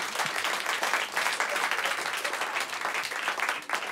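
A comedy show audience breaks into lively applause, dense clapping from many hands with a rippling texture and slight swells, sustained throughout at moderate loudness.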